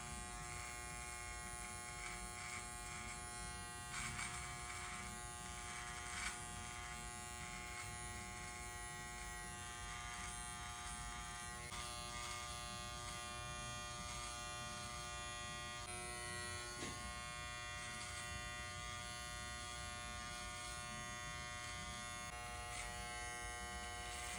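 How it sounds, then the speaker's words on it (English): An electric hair clipper trims facial hair during a barber's self-cut, giving a steady, close-up buzzing drone that holds evenly for the whole stretch with no talking. "Like the clipper's not actually touching my face. So I could just hear it cutting."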